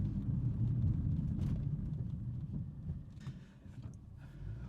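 Engine of a 2023 Renault Duster Iconic SUV with a 1.6 CVT revving under acceleration, a loud, steady low rumble that stays heavy throughout and eases slightly toward the end, with no talking over it.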